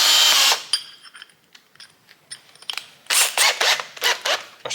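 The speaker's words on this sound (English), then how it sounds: "Just gonna countersink it with this countersink." A countersink bit cutting a hole in metal during steam engine bearing work, heard as a loud opening burst followed by short, uneven whirring bursts with gaps between them.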